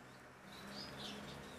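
Caged ornamental birds chirp and coo faintly, soft scattered calls over a quiet, steady background hum.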